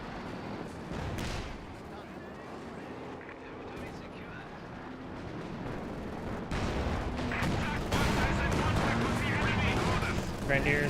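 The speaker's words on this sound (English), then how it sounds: "There's your rocket artillery." Rocket artillery fires in Company of Heroes 2 as a rumbling battlefield barrage, with repeated bursts and booms that grow louder toward the end, under a speaking voice.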